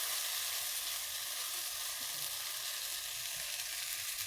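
Okra sizzling as it fries in a pan, a steady close hiss of bubbling oil with faint stirring scrapes underneath, continuous throughout with no voices.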